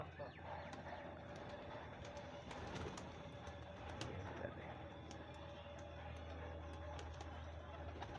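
Soft pigeon cooing and fluttering in a busy outdoor setting, including a red-eyed pigeon, with steady background noise and a few faint clicks throughout.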